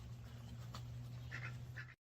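Ducks quack faintly in the distance, giving a few short calls over a steady low hum before the sound cuts off.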